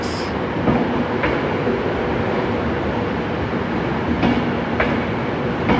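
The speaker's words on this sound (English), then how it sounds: "Coming in from the depot is an Avanti West Coast Pendolino, unit 390016." An Avanti West Coast Pendolino, unit 390016, rolls into Glasgow Central station from the depot. It gives a steady, loud broadband rumble with faint wheel clicks and brief squeals throughout, and no voices.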